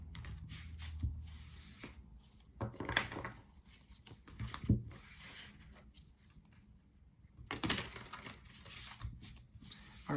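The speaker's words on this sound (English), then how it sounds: "Let's do some shuffling so we can pull 7 tarot cards for the week." Tarot cards being shuffled close by in intermittent bursts of riffling and soft slaps, separated by quiet pauses.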